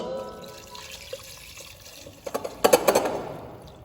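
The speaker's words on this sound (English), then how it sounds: "Now refill it with some more water" Water poured back into a cooking tray after the caramel is scraped out, a faint steady wash that builds into a few close splashy knocks and clatters toward the end.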